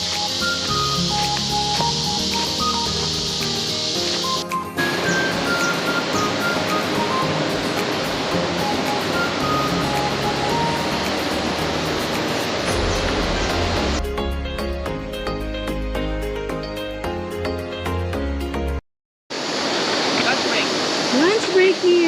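Steady, loud rushing of river water at a crossing on the trail to Mount Victoria, Palawan, a broad continuous wash with shifting tone and one brief cut near the end.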